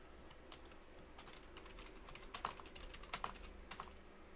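Quiet clicking of a computer keyboard being typed on at a desk, irregular keystrokes with a few sharper taps, faint and close over a low room hum.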